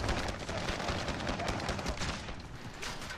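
A grenade blast and gunfire in a video game firefight, heard as a dense, continuous roar of overlapping shots and booms that stays loud and steady throughout.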